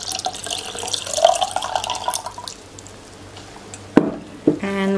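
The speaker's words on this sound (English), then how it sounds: "I'll pour the liquid now." Saved liquid pours steadily into a kombucha jar with a close, watery rush that fades out, followed by two sharp knocks and a brief ringing tone.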